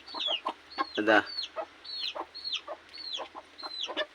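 A brooding hen clucks in a quick, repeated rhythm close to the microphone, with a brief spoken word midway.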